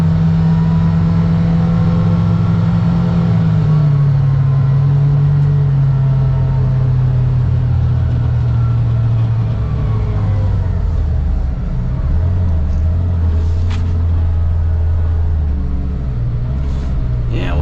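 A 2025 Kawasaki Ridge Crew utility vehicle drives off-road through a field, its engine droning steadily close by and dipping in pitch partway through as it moves along, with no talk.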